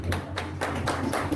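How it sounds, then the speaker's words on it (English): Brief burst of applause at a school award ceremony for a rank-holding student, several pairs of hands clapping in a quick, uneven rhythm, close and fairly loud. "Clapping for Dipanshi"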